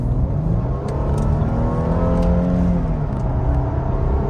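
The 3.5-litre engine of a 2014 Mercedes SL350 AMG Sport with 306 bhp revs loudly and up close, a sustained, steady engine note with rising and falling harmonics and no speech.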